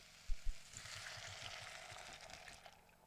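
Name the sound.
sizzling frying tomatoes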